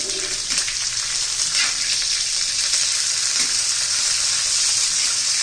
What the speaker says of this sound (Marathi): मोहरी आता छान अशी तडतडली आहे थोडस बडीशेप घालायची आहे मिरच्या घालायच्या आहे